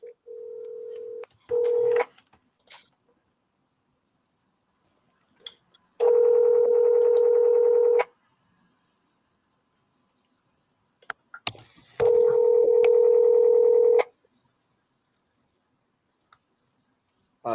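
A phone call goes out, with a short burst of dialing tones followed by two long ringback tones about six seconds apart, broken by faint clicks and handling taps; loud and free of talk.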